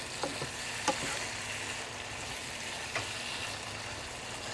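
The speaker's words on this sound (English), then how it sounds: "Stir it a little bit." Squash and onions frying in a pan and being stirred, a steady, moderate sizzle with a few brief scrapes and taps of the utensil against the pan.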